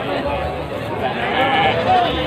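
Goats and sheep bleating amid a busy livestock market at Pasar Legi in Munjungan, Trenggalek, East Java, with steady crowd murmur and people talking close by throughout.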